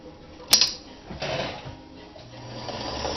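A vintage Kenmore 158.14100 sewing machine running a zigzag stitch, a soft steady mechanical whir with a sharp click near the start, fairly quiet and close with faint background noise.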